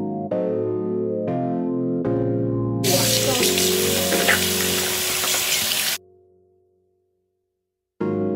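A bathroom sink tap runs for about three seconds as water splashes during face washing, a loud broadband rush that cuts off abruptly, with musical tones before it.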